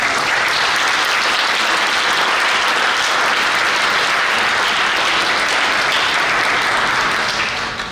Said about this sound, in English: Please join us as we applaud and welcome.